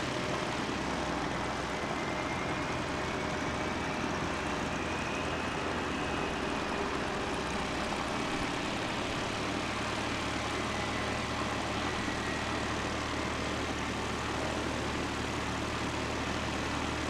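An aircraft at Christchurch Airport, New Zealand, using the northwest runway 29, giving a loud, sustained engine roar with a steady low drone that holds throughout.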